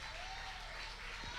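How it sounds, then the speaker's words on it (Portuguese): A church congregation applauds during a worship service, a steady wash of handclaps filling the clip with a faint sustained tone and a quiet voice underneath. "Vamos aplaudir o nome do Senhor"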